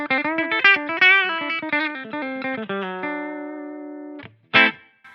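A PRS Archon electric guitar played through a Line 6 Helix on the Archetype Clean amp model rings out in quick melodic notes, then a held sustained note, followed by two sharp string hits, close and alone.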